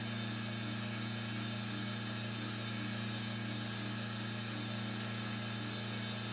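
A machine tool cuts a thin metal crosshead guide rail for a Pennsylvania A3 switcher model, giving off a faint, constant mechanical hum with a low, even drone and no breaks.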